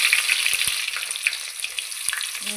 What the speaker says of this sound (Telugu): నూనె కాగిన తర్వాత మనం కోసి పెట్టుకున్న ఉల్లిపాయలు వేసుకుందామండి.